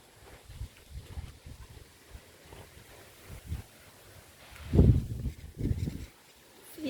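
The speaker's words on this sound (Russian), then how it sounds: "Ну и ветер у нас сумасшедший." Strong gusts of wind blow through a rose garden, rumbling against the microphone in uneven bursts, the loudest gusts arriving near the end.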